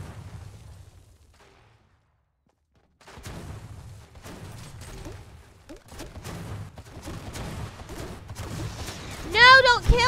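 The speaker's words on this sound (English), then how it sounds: "That was my last grenade" Grenade blasts and gunfire bursts in the Fortnite battle royale game, arriving as sharp, irregular booms and pops that grow louder toward the end, with a person talking over much of it.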